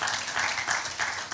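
A church congregation claps in praise of God during a sermon, a moderate wash of applause swelling in a few waves, somewhat distant in the hall.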